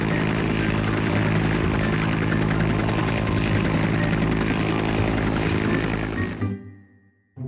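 A helicopter spins and descends as a sound effect, its engine and rotor making a dense, loud, continuous roar for about six seconds before cutting off abruptly.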